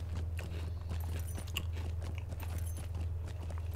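Someone chews a crunchy strawberry waffle chocolate bar up close, with steady crunching and biting over a low, constant electrical hum.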